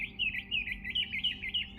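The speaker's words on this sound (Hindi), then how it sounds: "देखिए चिड़ियाँ चहक रही है" Small birds chirping and tweeting in quick repeated high calls, several bright phrases in a short run, fairly close with a low background hum and no talk.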